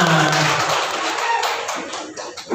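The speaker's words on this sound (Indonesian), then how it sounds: "tepuk tangan buat kita semua" Students in a classroom clap together, with loud mixed clapping at first that thins and fades into scattered claps and a few late taps.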